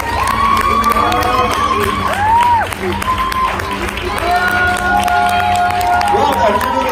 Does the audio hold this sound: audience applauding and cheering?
yes